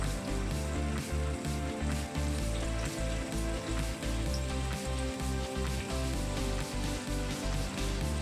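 Marinated chicken sizzling in a hot pan for kathi rolls: a dense, steady crackle and hiss that stays loud and continuous, with an even rhythmic texture and no talking.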